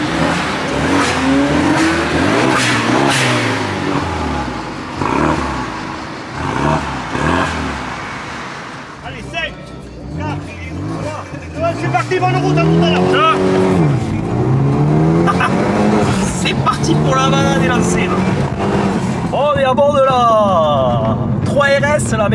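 A Renault Megane 3 RS Trophy engine revs and accelerates loudly on a club drive, with rising and falling pitch as it drives past, while people talk over the engine noise.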